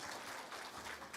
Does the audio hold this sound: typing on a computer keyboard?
no